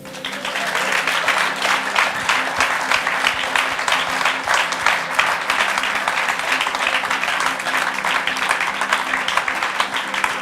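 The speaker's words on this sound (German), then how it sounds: "Darf ich euch bitten, der Isa einen riesigen Applaus zu geben?" Members of a church congregation give a long, enthusiastic round of applause, dense steady clapping that fills the room at an even loudness for the whole stretch, with no talking over it.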